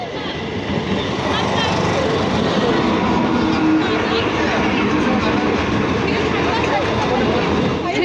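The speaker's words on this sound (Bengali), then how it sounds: "এই যে চলে আসলো বন্ধুরা লালগোলা ট্রেন" The Lalgola train pulls into a station with a loud, steady rumble and rattle of rail wagons, wheels clacking over the tracks close by and a platform crowd murmuring underneath.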